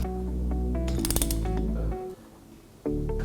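A torque wrench tightens the cylinder nuts during a Vespa engine rebuild, giving a short burst of ratcheting clicks over a steady mechanical hum, heard close and alone.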